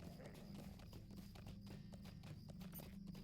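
Horse hooves clip-clop steadily in a Lord of the Rings Online first-person mod, a quiet even trotting rhythm over a low engine-like hum of game ambience.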